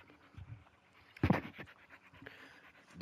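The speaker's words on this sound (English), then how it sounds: "Kenzo, will you sit down, dog?" A pet dog named Kenzo pants close by in a quiet room, soft rhythmic breaths swelling into a louder burst midway before settling back.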